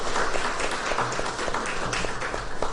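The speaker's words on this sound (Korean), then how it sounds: "우리 감사의 박수" A chapel audience at Hanyang University applauds the choir, producing a dense, continuous wash of many hands clapping at once, moderately loud with a few crisper claps breaking through.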